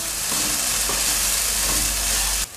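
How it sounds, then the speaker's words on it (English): Ginger and chili frying in a pan for Keralan tofu moilee, giving a loud, steady, close sizzle that runs unbroken before cutting off abruptly at the end. "You'll just want to let that fry for a couple of minutes, making sure that none of it burns"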